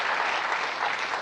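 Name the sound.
studio audience applauding the band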